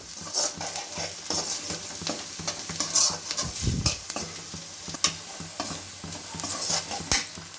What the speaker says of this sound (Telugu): ఇప్పుడు ఇందులో 1 స్పూన్ పసుపు వేసుకోవాలి. అంతా మిక్స్ అయ్యేలా కలుపుకొని